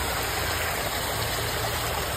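Steady rushing water flows continuously out of a lake through an overflow outlet, with a broad even roar and no voices.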